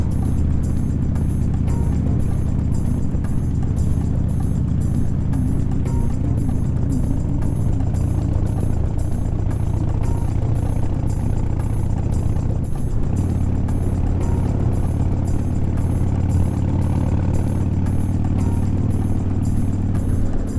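Harley-Davidson motorcycles roll along on a HOG group ride in the Tamar Valley, their engines making a continuous loud low rumble with wind buffeting throughout and a brief dip partway through, with no talking.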